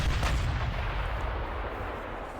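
Artillery fire in the wargame Panzer Campaigns Kiev 43: a deep rumbling boom rolls out and decays slowly, with dense low-end weight and no voices.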